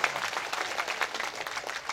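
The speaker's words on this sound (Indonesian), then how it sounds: "Barulah tepuk tangan." Applause from an audience at an outdoor Islamic tabligh akbar gathering on a hot open field in a village, a steady dense patter of many hands clapping for a couple of seconds without a break.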